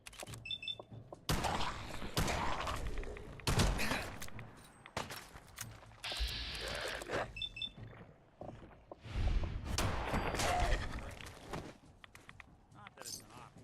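Gunfire in a Fallout video game: several sharp, loud shots in separate bursts over a few seconds, with scuffling and game ambience between them.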